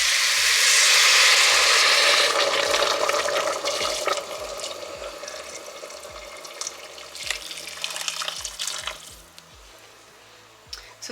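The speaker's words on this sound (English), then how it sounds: "it is time to put the water" Water gushes into a cooking pot for Filipino chicken tinola soup, a loud rushing pour that starts strong and gradually eases, with faint knocks and clinks around it.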